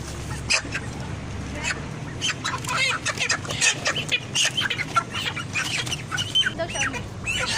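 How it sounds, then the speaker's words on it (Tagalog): Chickens, likely gamecocks, squawk and cluck repeatedly in short, overlapping calls close by, with some people talking in the background. "Oh, nanang manok."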